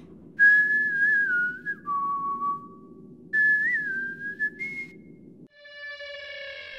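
Whistling by a cut Half-Life 2 game character from a single test map: two clear, melodic whistled phrases over a low background drone, ending in a steady, sustained tonal note.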